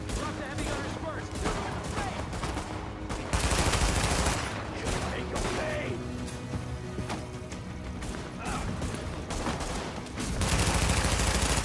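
Sustained automatic gunfire and bursts of shooting in The Division video game, dense and loud throughout, with heavier volleys near the middle and end and faint talk underneath.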